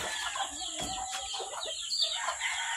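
A golden Sweater fighting cock crows and clucks close by, a harsh, busy run of calls with no pauses over its short length.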